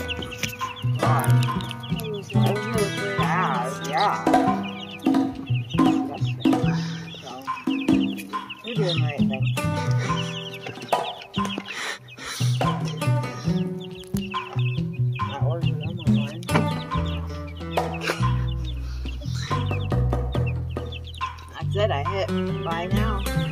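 Backyard chickens cluck and a rooster calls repeatedly, close and busy throughout, with a dog barking at times and voices mixed in.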